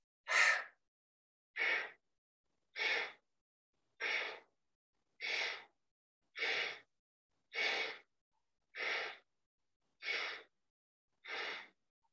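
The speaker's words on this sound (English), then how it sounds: "We can do our breath of fire here." Ten forceful, evenly spaced breaths of yoga breath of fire, each a sharp, loud burst about every 1.2 seconds against silence.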